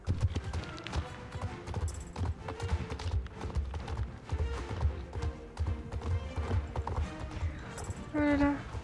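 Steady clip-clop of a horse's hooves in the online game Star Stable, a rhythmic trot running throughout with a brief whinny near the end, mixed with game sounds and a voice talking over it.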